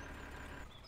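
A tractor engine left idling in Farming Simulator 2013, a steady low rumble holding at a constant, fairly quiet level for a brief moment.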